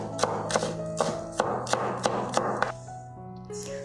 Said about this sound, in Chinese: 小葱切碎。